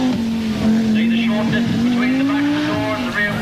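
An Audi Quattro Sport rally car driven by Michèle Mouton powers along a stage at Sutton Park. Its engine gives a loud, close, sustained roar whose pitch climbs and falls, with possible tyre squeal and a voice faintly beneath.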